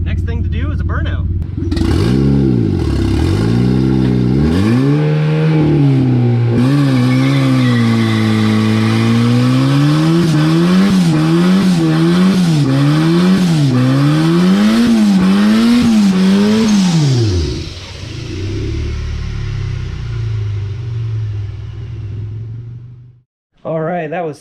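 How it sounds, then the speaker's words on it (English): A K-swapped Mazda B2300 pickup without a limited-slip differential does a burnout, its engine revving hard and loud with rising and falling wails over a roaring tire spin. It then drops back to a rough idle before a brief final cutoff. "So next thing to do is a burnout"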